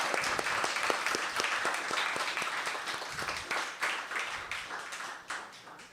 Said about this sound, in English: let's give another round of applause for all of our featured speakers today.